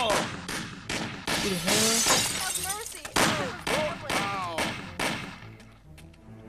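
Shotgun blasts in the Mafia video game ring out as loud, sharp bursts, several shots spread across a few seconds with shattering impacts, while someone talks excitedly over the gunfire.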